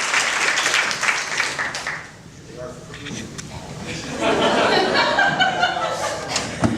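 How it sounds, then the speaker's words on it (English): A theatre audience applauds stage hands clearing the stage between scenes, clapping mixed with chuckles and chatter, dipping midway and then swelling again with scattered laughter. "We'll have our stage hands come out and clear the stage. Give them a round of applause."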